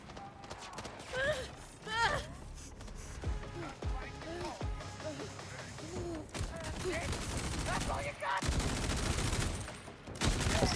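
Enemy gunfire in Borderlands 4 crackles in scattered bursts among mechanical game effects, grunts and a voice speaking over the fight, busy and mid-distance.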